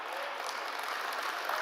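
Brief burst of steady applause from an audience at a design fellowship meet in Hyderabad, a dense even wash of clapping for a speaker.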